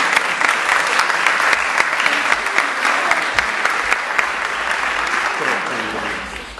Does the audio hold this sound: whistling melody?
no